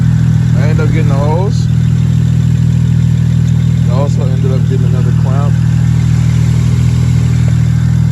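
A BMW E90 idles steadily with a new blow-off valve and charge pipe fitted, a loud low hum running throughout while someone talks over it nearby.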